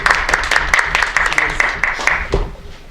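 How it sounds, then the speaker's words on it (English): Audience at a Toastmasters club meeting clapping in a brief, fairly loud burst of steady rhythmic handclaps that fills the room for a few seconds. "You can clap now."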